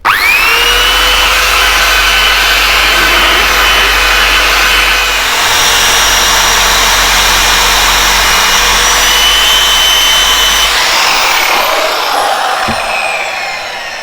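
A powered polishing wheel works on a Suzuki GT750 fork leg, giving a loud, steady, close mechanical whirr with a low hum that runs continuously before winding down at the end.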